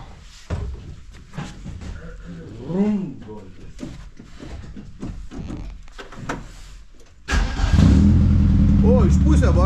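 A car engine cranks and catches near the end, settling into a loud, steady run with some revving, after several seconds of people talking over background noise.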